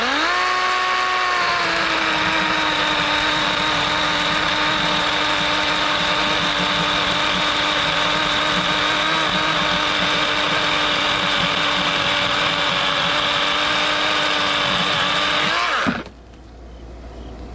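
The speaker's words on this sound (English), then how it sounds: "When you go to cut, you don't want to put the saw against the wood." A Dewalt DCCS620 20V Max battery chainsaw revs up to a steady, loud, high electric whine and holds it while cutting wood, then stops suddenly near the end, leaving a faint background.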